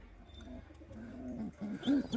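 Pigeons coo softly and repeatedly at close range, low throaty rolling calls rising toward the end over a quiet room background.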